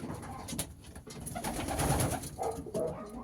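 Racing pigeons in a loft coo and murmur steadily at close range, soft overlapping calls with some rustling, no one speaking.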